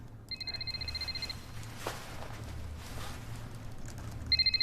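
An old-style telephone bell rings in two short, faint bursts, one at the start and another at the end, over a quiet low room hum.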